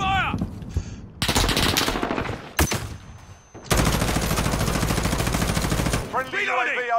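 Call of Duty Modern Warfare gunfire comes in loud, sustained machine-gun bursts broken by short gaps, with dense rapid shots filling most of the stretch and in-game voice effects near the end.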